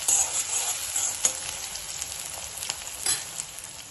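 Onions softening in a pan for a Hyderabadi boti fry, giving a steady, fairly quiet hiss and sizzle with a few brief stirring clatters near the start and middle, no voices.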